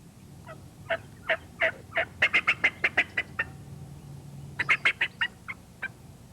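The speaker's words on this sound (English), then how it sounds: "Sure enough, he gobbled." Osceola wild turkey gobbling in the woods at daylight: two bursts of rapid, rattling gobbles, each a quick run of about a dozen notes, moderately distant and heard alone.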